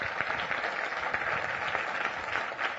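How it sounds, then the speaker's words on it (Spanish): A church congregation applauds together, a dense, steady wash of clapping that holds for under three seconds with no voices over it. "Denle un aplauso de todo corazón al Señor."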